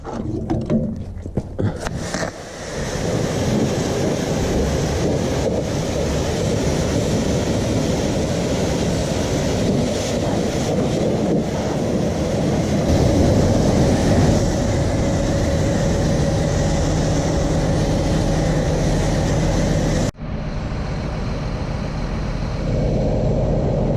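A pressure washer sprays steadily on a farm, cleaning out a manure spreader and the back end of a tractor, with a continuous loud rushing hiss and rumble that cuts off abruptly near the end.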